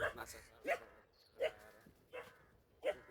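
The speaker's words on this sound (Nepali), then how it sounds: "कुकुरले पनि भुकिरहेको छ।" A dog barking outdoors beside a large lake in Kolkata, West Bengal, with four or five sharp, moderately distant barks spaced evenly about every 0.7 seconds, while a person speaks briefly.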